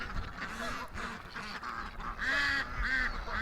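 Ducks on a large duck farm honk and quack in a noisy chorus, several nasal calls overlapping close by with rising bursts toward the end.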